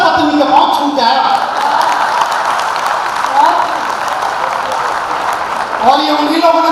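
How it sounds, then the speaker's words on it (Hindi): Audience at a Hindi comedy show claps steadily in a dense, sustained round of applause, with a voice speaking over it at the start and again near the end. "और ये उन्हीं लोगों ने ताली बजाई जो मेरी तरह है"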